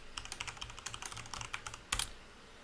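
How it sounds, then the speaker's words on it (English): Quick, close keystrokes on a computer keyboard as a password is entered, a run of soft clicks ending in a sharper key press, with no talking. "Root, and then you type in your password."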